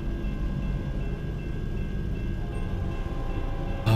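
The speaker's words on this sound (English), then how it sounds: "Got a little Union Pacific coming through." A Union Pacific train rumbles past in a truck driving video game, a steady low rolling drone with faint tonal hum, holding level before a louder surge at the end.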